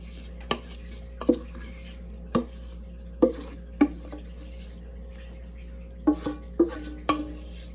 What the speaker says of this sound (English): now you're gonna go ahead and add your apples into the pan